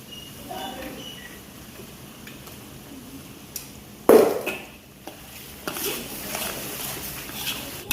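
Coriander-cumin powder is stirred into an okra and potato fry, with soft scraping and a clatter of spoon on pan, including one louder burst midway, over a quiet kitchen background.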